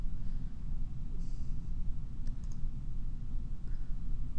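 A few sharp, faint computer mouse clicks sound close by over a steady low hum, spaced apart with quiet between them.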